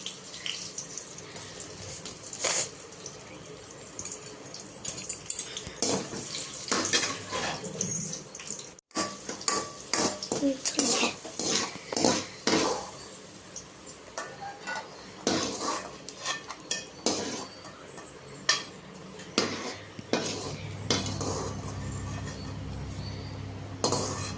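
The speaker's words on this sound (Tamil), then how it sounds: "முந்திரி பருப்பு போட்டுடலாங்க" Cashew nuts tossed into ghee in a pan and stirred for a papaya halwa, close metallic scraping and clinks of a spoon against the pan, with bursts of activity and a gentle sizzle.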